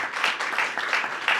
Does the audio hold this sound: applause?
yes